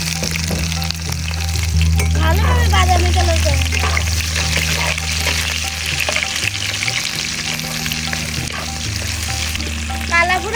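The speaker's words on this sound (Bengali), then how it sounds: "তেল গরম হয়ে গেছে তো এবার আমি পেঁয়াজ কুচি দিয়ে দেবো পেঁয়াজ কুচি দিয়ে দিচ্ছি" Chopped onion drops into hot oil and fries with a loud, steady sizzle and some stirring clinks, set against a low kitchen hum while chicken kala bhuna is cooked.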